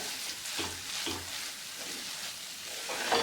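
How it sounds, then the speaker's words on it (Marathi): Cardamom powder is stirred into a sweet modak filling in a pan, a soft continuous rustle with a few gentle scraping strokes and no voices. "तर आता एकदा मिक्स करायचं आहे विलेची पावडर ह्याच्यामध्ये"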